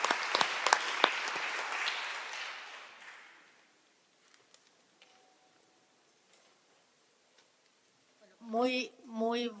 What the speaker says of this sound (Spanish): aprovechamos de recibirla con un aplauso también, Gloria de la Fuente